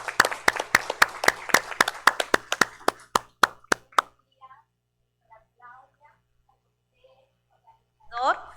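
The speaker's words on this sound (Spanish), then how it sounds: "La recibimos con un aplauso." A small audience gives brief, sparse applause welcoming a speaker at an academic nursing talk, about a dozen distinct claps over four seconds, then quiet with scattered voices.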